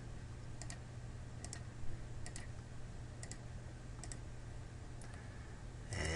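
Graphing calculator keys are pressed while entering equations, a series of sharp, quiet clicks spaced about a second apart over a low background hum.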